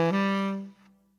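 A horn plays a brief, simple 1-2-3-5 jazz lick, a few quick notes ending on a held tone that rings out and fades, solo and close with no talking.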